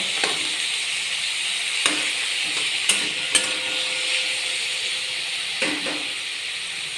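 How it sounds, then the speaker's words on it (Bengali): Two medium tomatoes go into a frying pan with onions, followed by a steady oily sizzle and hiss with a few sharp spoon clacks and stirring scrapes against the pan, heard close up with no talking. "এর মধ্যে আমি দুটো মিডিয়াম সাইজের টমেটো দিয়ে দেব।"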